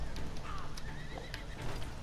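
A horse in a video game neighs loudly with a shaky whinny, with hoof clip-clop and busy game ambience running steadily underneath across two seconds.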